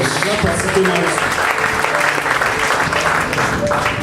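A church congregation at a Sunday service in Lome, Togo claps together, producing a loud, continuous, dense wall of applause that holds steady throughout, with voices mixed in underneath.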